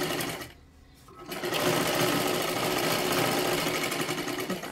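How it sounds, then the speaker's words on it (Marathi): A sewing machine double-stitches the sleeve onto a princess-cut blouse, starting after a brief pause and then running as a loud, continuous rapid mechanical whir close by. "अशा पद्धतीने आपल्याला व्यवस्थित बाही जॉईन करत करत डबल शिलाई मारून घेतली आपण"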